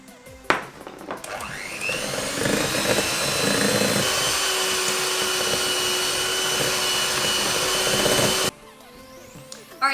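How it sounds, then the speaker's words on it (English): An electric mixer whirs steadily and close-up for about eight seconds while cookie dough with dry ingredients for a low-carb, gluten-free chocolate chip skillet is blended, then it cuts off abruptly. "we're gonna take the mixer and blend it all up, or mix it all up"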